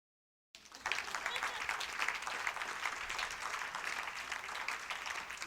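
A church congregation applauds during a sermon, breaking in after a brief silence with steady, dense clapping that stays loud and even for about five seconds.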